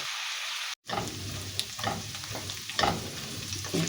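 Sautéed sayote (chayote) vegetables stirred in a pan, a steady frying sizzle with intermittent scraping stir strokes, up close and alone after a brief silent gap.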